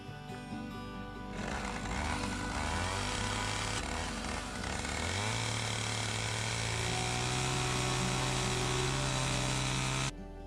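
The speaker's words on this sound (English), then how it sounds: "So I'm using my big 545, which is my favorite saw, but it is a heavy saw" A Husqvarna 545 chainsaw cuts notches into logs for an eight-sided log cabin, its engine whining loud and steady at high revs throughout, with pitch shifts as the chain bites into the wood.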